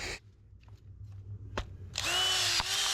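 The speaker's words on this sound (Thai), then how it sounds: "ตัวนี้เราสามารถใส่สว่านนะครับ แล้วก็เจาะลง ไปกลางตัวไม้นะครับ" An electric drill fitted with a wood-splitting bit bores into wood. After a few faint knocks and taps it spins up into a loud, steady, close whine and grind that carries on without speech.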